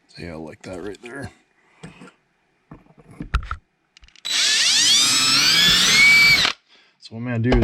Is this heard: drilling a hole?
yes